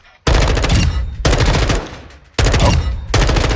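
An M4 rifle in Modern Warfare 2 fires in loud, close bursts of rapid automatic gunfire. Three or four sustained strings are broken by short pauses, with no talking over them.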